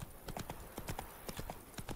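A horse's hooves clip-clop at a steady riding gait in The Witcher 3, close and rhythmic, about two hoofbeats per half second.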